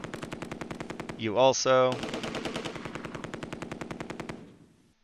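Sustained machine-gun covering fire from the Close Combat II war game, rapid dense bursts rattling loudly through the whole stretch, with a brief swelling blast partway and a short spoken phrase.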